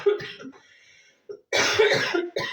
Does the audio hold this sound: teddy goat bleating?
no